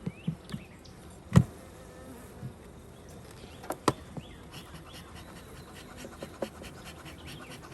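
Honey bees buzzing around a hive that has outgrown its nuc, a steady close hum with scattered louder knocks and thumps from handling the frames, no talk.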